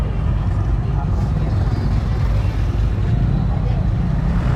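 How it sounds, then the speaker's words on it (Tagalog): Motorized tricycles queue and pass at a festival street scene, a steady loud engine drone with continuous traffic rumble throughout and voices faintly underneath. "May pila ng tricycle."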